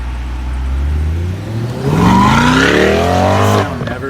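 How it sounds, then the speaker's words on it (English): A 2020 Corvette C8 mid-engine sports car revs hard nearby, a loud rising engine roar climbing through the gears and easing back off over a few seconds. "We hear a rev. Let's get a rev."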